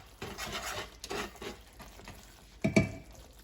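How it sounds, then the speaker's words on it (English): A spoon scrapes and stirs through pasta with tomatoes, spinach and cheese in a pan, soft rhythmic scraping with a faint sizzle and one louder knock of metal near the end. "now we're gonna spoon everything on top of the pasta"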